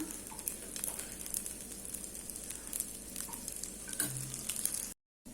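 A Ceylon-style egg dosa fries in freshly added oil on a hot pan, giving a continuous close sizzle with faint crackles, broken by a brief moment of silence near the end.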